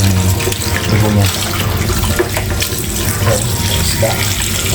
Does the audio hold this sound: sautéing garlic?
no